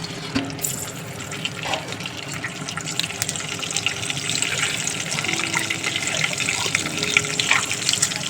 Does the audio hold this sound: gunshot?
no